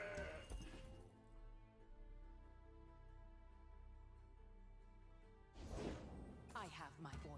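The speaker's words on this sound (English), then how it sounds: "so let's just drop the mountain goat" Mountain goat card in the Legends of Runeterra video game gives a bleat that rises briefly over steady game music, with someone talking over much of it.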